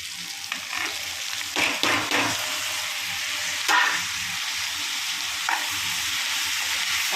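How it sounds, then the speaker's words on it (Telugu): Tomatoes fry in a pan over softened, reddish onions, a steady sizzle with a few scraping stirs from a spoon, close and with no talking. "టమాటా వేసుకొని ఒకసారి తిప్పుకొని మళ్ళీ సిమ్లో పెట్టుకున్నాం"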